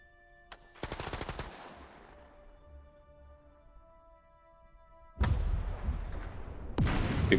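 Wartime WW2 battle gunfire from the turn-based game Second Front, fought against the Afrika Korps: a short burst of rapid machine-gun fire, a decaying rumble, then louder bursts and blasts near the end.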